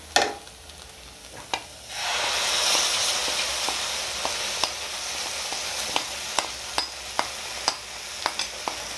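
Ground masala paste sizzles steadily with onions in a pan for egg curry. A sharp clatter at the start is followed by a continuous loud frying hiss, with regular spoon scrapes ticking through it at an even pace.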